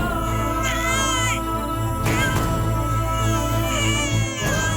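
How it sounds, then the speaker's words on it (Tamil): A crying baby girl wails loudly and continuously in a home, her sobbing rising in drawn-out, wavering bursts, with another infant's crying audible in the background; the cries sound close and fill the whole stretch without pause. "உள்ள அந்த குழந்தை அழுற சத்தம் கேட்டோன்னு இதுவும் அழ ஆரம்பிச்சிருச்சு."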